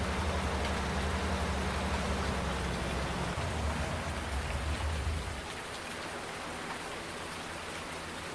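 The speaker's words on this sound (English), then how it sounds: "now that it's raining again" Rain falls in the Fenton Forest video game, a steady close hiss of drops that softens and thins partway through as a low rumble drops away, with no speech.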